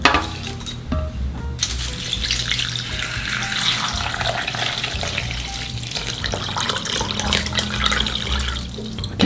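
Tap water runs steadily into a bowl or sink as dried seaweed is soaked for Korean beef seaweed soup, a continuous close splashing rush with a short pause early on and no talking.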